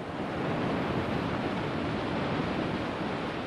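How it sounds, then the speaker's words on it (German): A healthy mountain brook in the Engadin rushes steadily, a dense, even wash of water noise that fills the whole stretch with no voices. "Das ist ein gesunder Gebirgsbach im Engadin."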